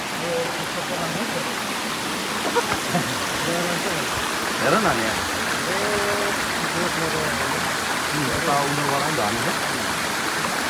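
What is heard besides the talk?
waterfall and streams at Fall Creek Falls, Tennessee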